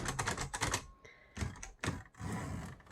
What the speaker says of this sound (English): you can kind of see me hit the keys and see it type.